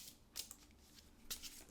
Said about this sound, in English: I'm shuffling the cards.